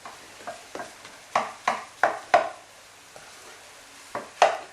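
Pre-cooked rice being tossed into pineapple fried rice in a hot pan: a series of sharp metal spatula scrapes and clacks in an irregular rhythm, close and loud over a soft sizzle.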